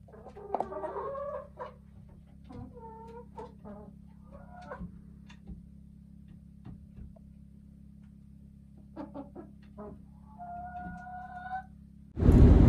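Seven chickens perched on a roost inside a coop cluck in scattered, soft bursts with quiet gaps between, over a low steady hum, ending in a sudden louder rustle.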